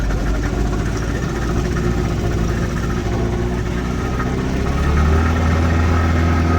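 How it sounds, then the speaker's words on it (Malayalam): A motorboat engine on the Sambranikodi boat service runs with a steady, loud droning hum, heading out toward an island with no voices over it. "നമ്മുടെ ബോട്ട് എടുത്തു നമ്മൾ ഐലൻഡിലോട്ടാണ് പോകുന്നത്"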